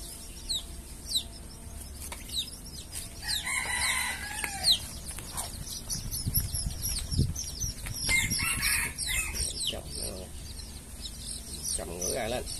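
A brood of hybrid jungle chickens, 3 to 21 days old, keeps up steady shrill peeping and chirping with scattered clucks and wing flutters, close and continuous, with some low background noise underneath.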